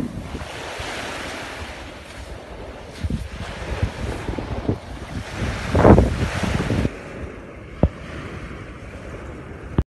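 Waves and wind on Sarımsaklı beach: steady surf washing in and out under continuous gusty wind buffeting the microphone, with a louder wave surge near the middle before the wind eases.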